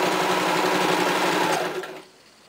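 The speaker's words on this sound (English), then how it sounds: "So I finished stitching all the way around" A sewing machine stitching fabric for cloth wipes runs with a steady, loud, close mechanical whir for about two seconds, then stops abruptly into near silence.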